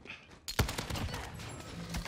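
Gunfire in Modern Warfare multiplayer, a rapid burst of shots with a sharp onset followed by continuous crackling fire, faint and compressed, over about two seconds.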